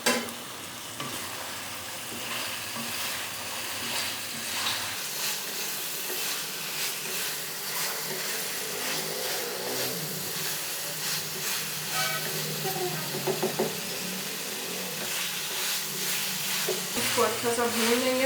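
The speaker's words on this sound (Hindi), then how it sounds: "ये देखिए हमने इसमें ऑयल डाल दिया और फिर हम इसको अच्छे से" Spiced meat for butt karahi fries steadily in hot oil with salt, chili, turmeric, whole coriander, whole cumin and ginger-garlic paste. A continuous close sizzle runs throughout, with scraping stirs and a faint voice at times.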